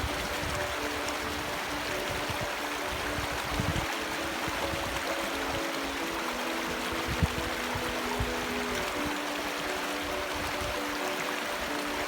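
A cold mountain river on the Kungsleden trail in Sweden rushes steadily, a constant broad roar of flowing water with no pauses, close and fairly loud throughout.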